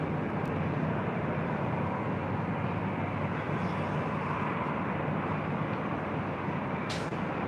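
An Avianca airliner bound for Guatemala City rumbles at LAX, a steady, fairly loud low engine roar that holds constant throughout, with no talk.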